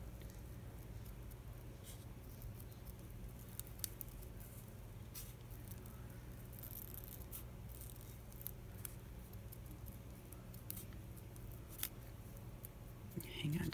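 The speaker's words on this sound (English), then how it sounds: "draw the lines on there and then cut it out" Paper being cut into journal tabs with scissors, giving quiet, intermittent snips and rustles against a steady low background hum, with no speech.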